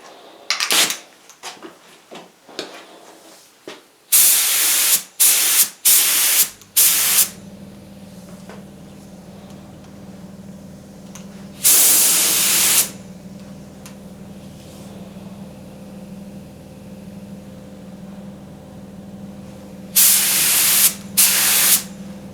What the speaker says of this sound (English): I'll just continue now and spray the rest of the coats